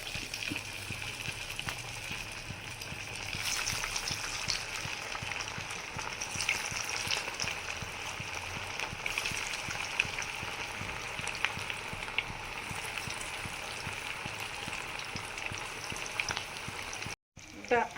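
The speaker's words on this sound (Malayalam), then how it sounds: "എണ്ണ തിളച്ചിട്ടുണ്ട്. അതിലേക്ക് നമ്മൾ നൊത്തോലി വടയാക്കി വെച്ചേക്കുന്ന ഇടയാണ്." Anchovy (nethili) vadas frying in hot oil, a steady crackling sizzle with scattered pops running throughout at moderate level, fairly close, with faint background murmur and a brief dropout near the end.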